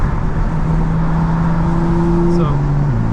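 A 2024 BMW M4 driving in rear-wheel drive mode, engine drone rising and shifting in pitch with a steady loud road rumble throughout, heard from inside the cabin.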